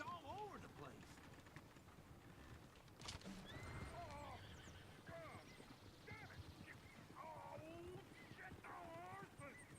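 A horse in the Red Dead Redemption 2 video game neighs and whinnies several times over the steady clip-clop of hooves, with game ambience and a voice talking.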